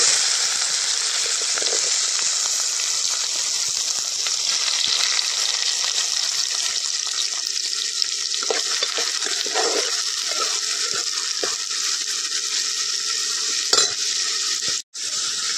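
Onion frying in hot oil for a Malvani-style clam curry, a loud continuous sizzle with stirring scrapes and clinks, close up and without talk.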